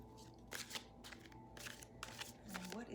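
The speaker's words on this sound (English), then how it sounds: "Feel free to fast forward through any shuffling." Tarot cards shuffled by hand during a reading, a series of crisp riffling bursts separated by short pauses, soft and close with a quiet hum underneath.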